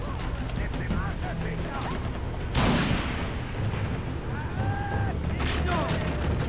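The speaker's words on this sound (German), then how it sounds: "Granate." A grenade explosion in Far Cry 3 bursts as one broad blast amid a busy, dense game soundscape with voices and scattered noises, settling quickly into the ongoing din.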